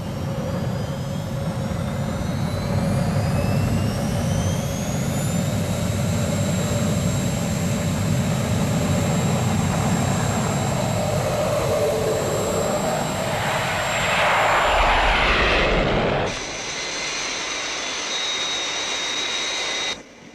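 Jet aircraft engines spooling up to full power, a loud sustained roar with rising whine that swells and then drops abruptly near the end, no talk over it.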